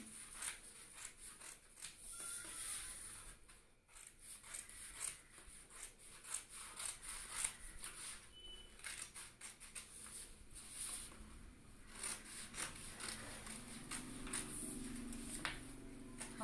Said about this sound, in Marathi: आता आपण हे पेपर कटिंग करून घेऊयात अशा पद्धतीने